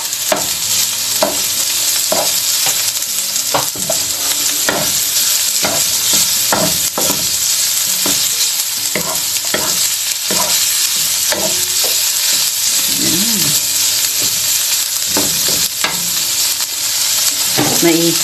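Chicken pieces stir-fry in a hot pan for pad see ew, a loud continuous sizzle broken by repeated scraping and clattering strokes of a spatula throughout.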